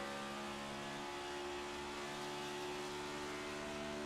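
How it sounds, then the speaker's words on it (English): NASCAR Next-Gen Cup race car at Pocono Raceway holding a steady high-RPM engine drone, a continuous loud harmonic whine with no break, likely a flyby after a crash. "Sounds like he's still got full engine RPM."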